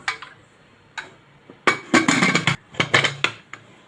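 Metal pots and lids clank and clink as a pressure cooker of rajma is set up, a series of sharp, close knocks and rattles, irregular and loud, without speech.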